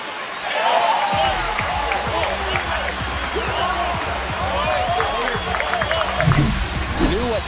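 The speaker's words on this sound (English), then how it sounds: "That's exactly what this crowd wanted to see in this spot." A stadium crowd in the MLB The Show 25 baseball video game roars and cheers after a home run, a steady broad swell lasting throughout, with a commentator talking over it.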